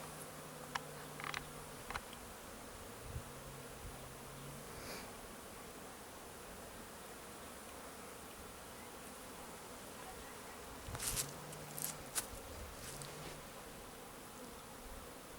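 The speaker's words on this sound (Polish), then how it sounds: "Pszczoła algierska." Steady buzzing of Algerian honeybees at an apiary in January hums throughout with a low drone, fairly faint and outdoors, with a few brief louder passes of wings near the microphone.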